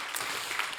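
Brief burst of audience applause at a startup pitch event, a soft, even patter of clapping from a crowd, fairly distant and faint.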